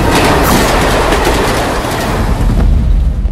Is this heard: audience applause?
no